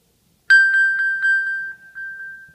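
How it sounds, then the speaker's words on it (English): An iPhone ringtone set off through HomeKit and Z-Wave plays nearby and loudly. It is a bright chiming tone that pulses in a quick repeating rhythm, with no talking over it. "the phone will start ringing"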